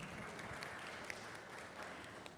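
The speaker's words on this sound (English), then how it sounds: "Yes, she deserves a clap." An audience at a media summit on climate action breaks into applause, a soft, distant, continuous spatter of clapping from a crowd, faint and steady throughout.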